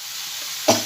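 Broad beans sizzle in a pan, a steady hiss with one sudden louder surge near the end as they are stirred, close by and without talk.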